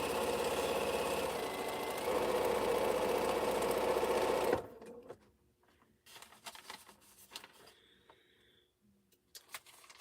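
A sewing machine stitching quilt string blocks runs in a fast, steady, buzzing whir for several seconds, then stops abruptly, leaving only faint scattered clicks and handling noises in a quiet room.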